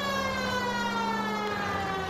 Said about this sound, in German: Sirene kann man auch anmachen.